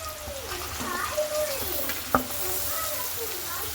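Chopped onions go into hot oil already seasoned with black cumin, giving a steady close sizzle and crackle while a spatula scrapes and stirs, with faint background voices.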